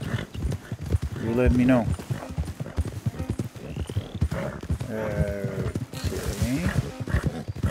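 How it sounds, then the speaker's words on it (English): Horse hooves clopping in Red Dead Redemption 2, a steady rhythmic patter of several riders close by, running under spoken dialogue and game music. "Don't want the horses clopping around outside the window."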